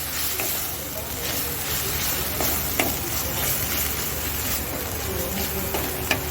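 Spicy katla fish kalia with mustard paste is stirred in a frying pan, giving steady sizzling with light scraping and small ticks from the pan throughout.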